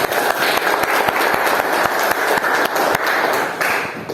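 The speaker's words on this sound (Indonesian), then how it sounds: "Berikan aplaus untuk teman kalian sudah maju." A classroom of students applauding classmates who have just presented, a brief burst of steady, fairly loud clapping from many hands, close by with no talk over it.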